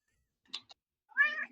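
A pet cat makes two soft clicks followed by a single clear, close meow.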